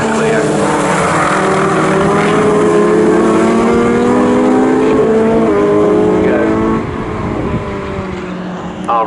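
A Renault Clio series race car on the Snetterton circuit approaching and passing with a loud, sustained engine roar that rises and then recedes, while commentary talk runs underneath.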